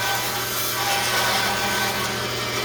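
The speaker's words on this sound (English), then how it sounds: "I love this bandsaw. It's one of the best ones I ever owned. It's a Rikon." A Rikon bandsaw cuts through wood in a woodshop, a steady, close, continuous whirring rasp of blade on timber with an underlying motor hum that holds level throughout.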